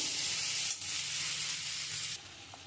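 Water is poured into a pan of sizzling mustard spice paste for a vegetable stem curry, giving a loud, bright hissing sizzle that drops off sharply after about two seconds.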